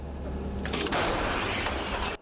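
A heavy gun fires close by, a sudden loud blast that rolls into a long rumbling roar over a low mechanical hum.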